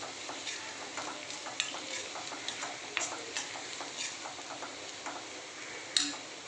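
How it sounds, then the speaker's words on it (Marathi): Masala mixture for anda masala being stirred in a pan, with steady frying hiss and a run of light spatula scrapes and taps, close and moderately loud, no talking. "चला तर सगळं मिक्स करून घेते."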